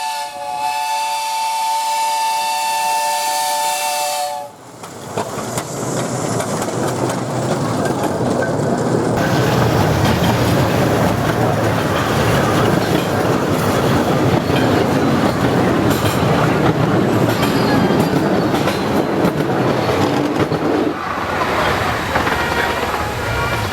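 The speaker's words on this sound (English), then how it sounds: "number 24 Sandy River, a replica of a Sandy River and Rangeley Lakes Railroad 262 narrow gauge" No. 24 Sandy River, a 10¼ inch gauge replica of a Sandy River and Rangeley Lakes Railroad narrow gauge steam locomotive, sounds a clear multi-tone whistle, then runs past with loud hissing steam and rolling rumble.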